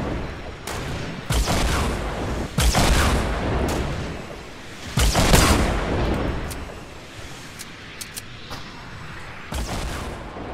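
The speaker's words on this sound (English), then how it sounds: "They're shooting rockets at us right now" Rockets and explosive fire in a Fortnite-style battle royale shooter game, repeated heavy booms and blasts at irregular intervals, loud and close, with no talking over them.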